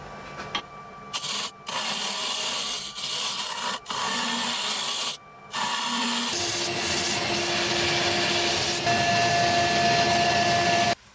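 Scrap oak turning being shaped along its edge on a wood lathe, a steady scraping, rasping whir with brief breaks as the tool lifts off, then a continuous rougher cut with a faint tonal hum from the running lathe.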